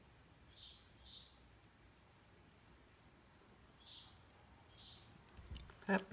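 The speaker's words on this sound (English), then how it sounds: "That bird's really chirping out there, isn't he?" Faint outdoor bird chirps come in short paired bursts, two near the start and two more a few seconds later, distant and soft over quiet room tone, with a brief rustle or knock at the end.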